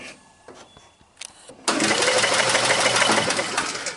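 The Kohler engine of an old three-wheel off-road hauler, spark plug removed and lacking spark, is quiet for a moment after some faint clicks, then is cranked over by the starter with a steady whirring churn.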